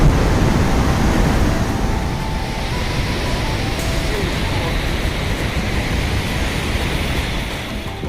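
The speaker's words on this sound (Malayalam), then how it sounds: "ഏകദേശം നമ്മൾ വാട്ടർഫോൾസിൻ്റെ അടുത്ത് എത്തി എന്ന് തോന്നുന്നു" Loud, steady rushing water fills the scene near a waterfall on the way to Munnar, a dense broadband roar with deep rumble and no clear voices.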